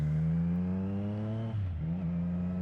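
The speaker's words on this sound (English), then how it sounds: "that's my exhaust" A steady, deep engine rumble from a 2020 Triumph Street Triple RS motorcycle exhaust idles loudly nearby, dipping briefly in pitch before settling back into a constant drone.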